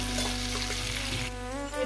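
Vegetables frying in a pan with salt for a vegetable lentil dal, a steady close sizzle with faint stirring scrapes running throughout.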